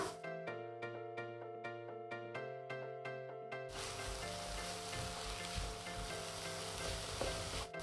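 Chopped capsicum hits a hot pan and sizzles steadily, a dense close frying hiss that swells after a few seconds of sparse clicking and keeps going with no one talking.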